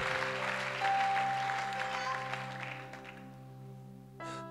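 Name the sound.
congregation applauding the Lord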